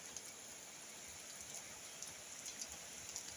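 Rain falls outdoors as a faint, steady hiss, with occasional soft drop ticks scattered through it and no voices.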